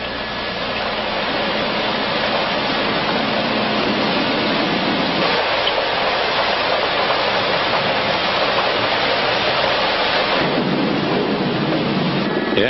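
Steady heavy rain over Kuala Lumpur near Subang International Airport, a dense continuous hiss with low rumbling swells that could be thunder, loud and unbroken throughout with no voices.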